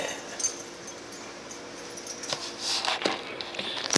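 A dog whimpers and yips faintly against a steady indoor background, the short whines rising toward the end of the moment.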